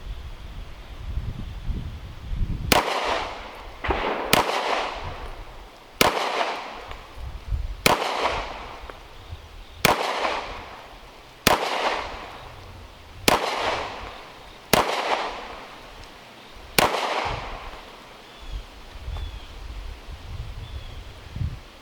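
Smith & Wesson 5906 pistol firing Full Metal Jacket target ammo outdoors, nine sharp, loud shots spaced roughly two seconds apart, each followed by a short decaying echo over light wind.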